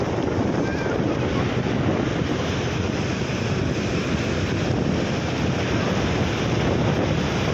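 Strong wind buffets the microphone over a steady rush of sea water, loud and unbroken throughout.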